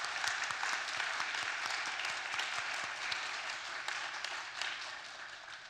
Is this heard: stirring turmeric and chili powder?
no